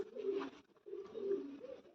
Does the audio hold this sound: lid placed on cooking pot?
no